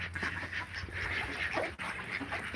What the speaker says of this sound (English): Yeah, these ducks are amazing.